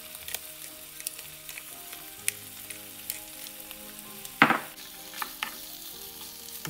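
Chicken afritada with mixed pepper is stirred in a pan, the spoon scraping and clattering over a soft steady sizzle, with one louder clatter partway through and no voices.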